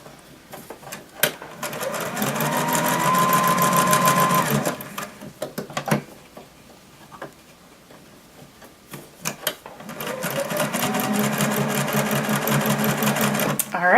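A sewing machine runs in two sustained bursts of stitching through gathered fabric, pausing in between for adjustments with soft handling noises. It is close and steady, with no talking.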